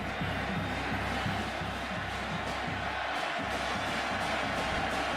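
A packed football stadium crowd in Norman roars continuously during the 2012 Oklahoma State vs Oklahoma game, a dense, steady wall of cheering with no letup.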